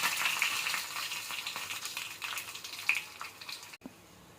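A tempering of spices sizzles in hot oil in a pan while pappu beerakaya, lentils with ridge gourd, is prepared. A steady, moderately loud frying hiss with small crackles runs throughout, then cuts off sharply near the end.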